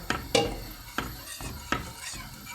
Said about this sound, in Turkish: Bunu durmadan karıştırıyoruz.